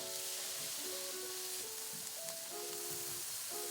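Onions sizzling steadily in a frying pan for shakshuka, a soft continuous crackle with faint tonal hum over it, no talking.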